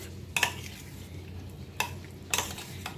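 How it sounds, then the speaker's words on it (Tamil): Paneer cubes are stirred in a pan for a chapathi paneer roll, with three or four distinct scraping clinks of a spatula over a soft, quiet sizzle. "இதை போட்டு இதையும் நல்லா கலந்து விட்டுக்கலாம் பன்னீர் உடையாமல் நல்லா கலந்து விட்டுக்கலாம்"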